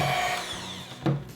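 Electric mixer beating quick bread batter on low speed, a close whirring motor with shifting pitch and a short clunk near the end.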